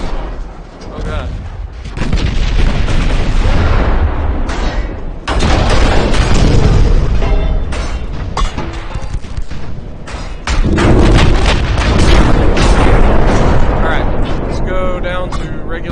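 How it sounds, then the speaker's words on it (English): Battleship guns fire in a video game, with deep booming blasts and thuds layered into a dense, continuous barrage of loud explosions that swell in waves, with a voice faintly under the din. "Battleships are starting to shoot at us."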